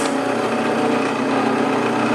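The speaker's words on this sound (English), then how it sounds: "I slip it into this little framework on the drill press to hold everything secure" A high-pitched drill press motor whines steadily at close range, a continuous power-tool drone while drilling a chess piece held in a small framework.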